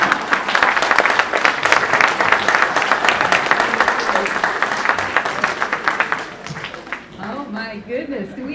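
An audience at a live comedy variety show applauds a performer, dense sustained clapping that fades near the end as voices take over.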